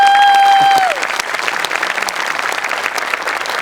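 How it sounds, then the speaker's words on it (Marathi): A studio audience at a Marathi comedy show breaks into loud, sustained clapping right after a short high tone, with the applause filling the whole stretch without letup. "जोरदार टाळ्या"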